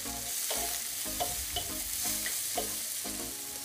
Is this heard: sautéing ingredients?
yes